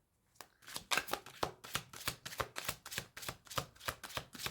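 A deck of tarot cards is shuffled in a quick run of about fifteen crisp, papery bursts at an even rhythm, close and fairly quiet with no voices.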